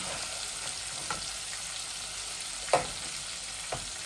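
Fish frying in a nonstick pot gives a steady, even sizzle throughout, broken by a few sharp utensil clicks and one louder scrape near the end.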